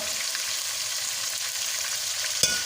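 Chicken sizzles in oil in a karahi for Balochi chicken karahi, a continuous close hissing fry with light stirring and a single sharp clink near the end.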